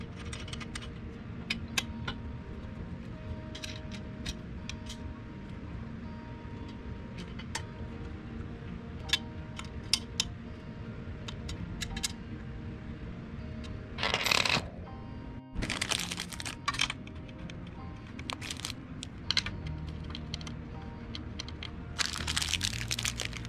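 Screws being fitted during assembly of an adjustable standing desk, with scattered small metallic ticks, clicks and taps, occasional louder bursts of rattling and handling noise, close and intermittent over a quiet room background.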